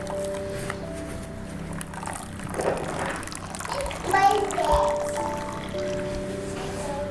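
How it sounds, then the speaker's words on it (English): Water trickles and drips as a hot, twisted towel is wrung out for a hydrotherapy fomentation, a soft wet patter rising midway, while someone talks nearby. "we're just going to keep twisting it to wring out the water"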